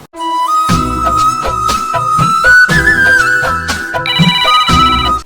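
A loud electronic phone ringtone plays a bright, repeating melody with rhythmic beats, close and continuous throughout.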